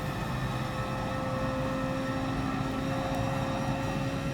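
Race car engine held at full throttle in Gran Turismo Sport, a steady high-revving drone with a constant pitch and no gear changes, loud and close.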